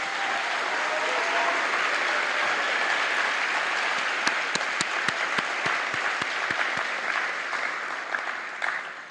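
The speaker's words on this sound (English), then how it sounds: "Now let's give them a round of applause." A school audience at a fifth grade recognition night applauds, a dense steady wash of clapping that thins near the end while a few sharp single claps ring out closer in.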